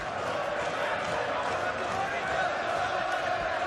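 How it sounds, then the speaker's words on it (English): Dense, steady roar of a noisy arena crowd at a professional boxing match between Josh Taylor and Viktor Postol, a continuous wash of shouting and cheering with no breaks, loud and close throughout. "noisy crowd."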